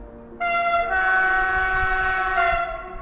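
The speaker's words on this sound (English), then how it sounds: "It's the Flåm Railway arriving." The Flåm Railway train in Norway sounds a long, loud, sustained horn blast that swells in just under half a second and holds steady over rumbling rail noise, with no talking.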